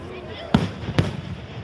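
Fireworks burst at the Milan Fair celebration, two sharp booms about half a second apart, close and loud, with people talking in the crowd.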